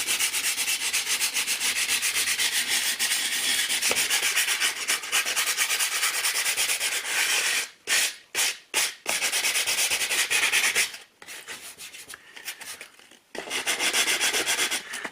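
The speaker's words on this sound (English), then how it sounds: "I want to be careful not to start sanding any of the filler inside the hole" Steady back-and-forth rasping of sandpaper on filler on a dry lined wall, close up, with a few brief pauses near the end before it resumes.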